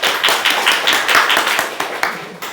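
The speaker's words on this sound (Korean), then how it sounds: "우리 지구 지민이 위해서 박수 한번 쳐" A church congregation claps for children, a lively burst of applause from many hands with a brisk, uneven rhythm that thins out toward the end.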